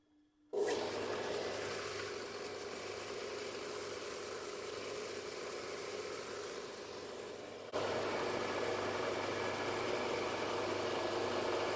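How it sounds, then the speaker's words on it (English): A Tormek buff station fitted with extended arms runs steadily as a knife-sharpening setup, a close, continuous motorized hum and whir that steps up slightly in level partway through and carries on alone without talk. "Check out my new buff station with extended arms."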